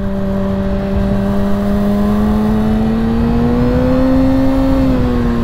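A sport bike's engine climbs steadily in pitch through a single sustained pull, loud and close over constant wind rush during a commute, with no speech.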